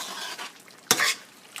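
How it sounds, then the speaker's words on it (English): Tomato sauce being stirred into melted butter in a pan for Haitian lasagna: one short, close scrape and splash of stirring amid a soft, faint sizzle. "stir your sauce, your tomato sauce in"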